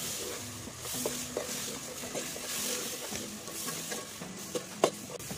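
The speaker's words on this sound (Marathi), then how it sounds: "यात आपण तयार करून घेतलेलं ओलं वाटण घालूया आणि भाजून घेऊया।" Wet ground masala paste frying and being stirred for Malvani chicken, a steady sizzle with scraping stir strokes close by and a sharp clink near the end.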